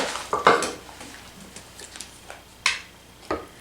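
Confectioner's sugar icing is stirred in a bowl, with a few sharp clinks and scrapes of a utensil against the bowl, close and fairly quiet, with soft irregular stirring sounds between them.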